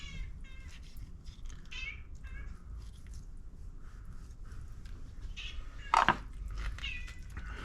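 A cat meows repeatedly in a kitchen while a turkey is being prepped, a series of short, fairly close cries with a louder clank of utensils midway.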